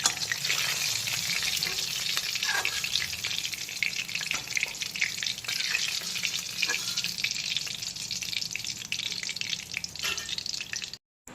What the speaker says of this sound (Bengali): এইভাবে বাকি যে মাছগুলো রয়েছে সেগুলোকেও একে একে ভেজে তুলে নেব